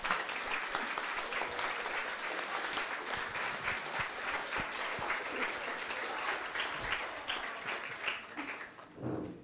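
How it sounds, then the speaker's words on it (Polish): A room full of people applauds continuously, steady rapid clapping that holds for several seconds before tapering off. "brawa."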